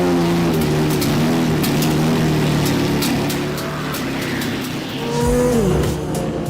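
A Porsche 917 race car engine roaring at the Hockenheimring during a CanAm Revival event, a loud sustained drone that dips briefly, then surges with rising revs near the end.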